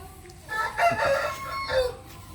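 A rooster crows once nearby, a short, hoarse cock-a-doodle-doo with some faint clucking around it.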